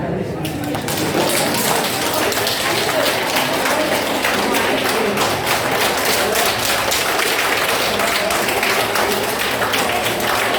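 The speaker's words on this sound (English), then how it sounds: "Clap." Audience clapping together at a women's conference life-skills session in Bangalore, a steady dense patter of hands filling the hall for several seconds.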